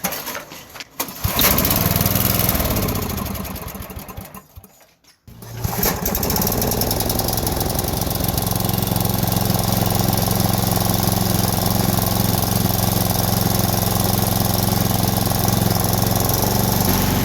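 A snowblower engine sputters, cuts out briefly, then catches and runs with a little throttle, holding a loud, steady mechanical drone close by, with no talking.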